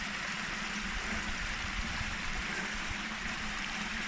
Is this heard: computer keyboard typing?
no